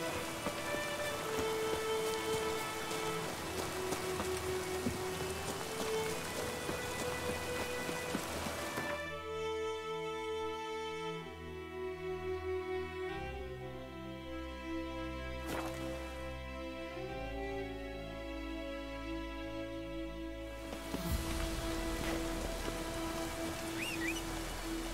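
Rain in The Witcher 3: Wild Hunt, a steady patter of falling drops layered with game music, dipping quieter midway and swelling back near the end.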